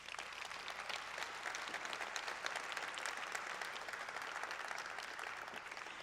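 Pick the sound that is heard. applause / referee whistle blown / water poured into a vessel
applause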